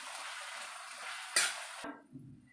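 Spices for masala pulao, including garam masala, red chilli powder and coriander powder, sizzling and being stirred in a hot pan, a close steady hiss with a scrape of the spoon before it quiets to faint clinks.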